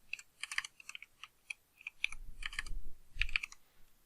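Rapid keystrokes on a computer keyboard as Python code is typed, clicking in short irregular bursts with brief pauses, close and fairly quiet, with a few heavier thumps near the end.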